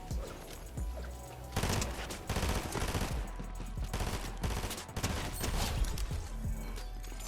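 Rapid gunfire in a competitive shooter game, dense bursts of shots stacked close together with a few heavier reports standing out, loud and continuous over several seconds with a game soundtrack beneath and no talk.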